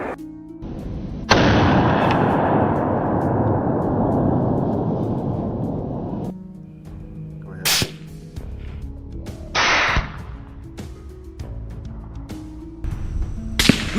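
Rifle shots ring out during a wild boar hunt: a loud crack with a long, rolling decay, followed by several sharper, scattered reports at varying distances.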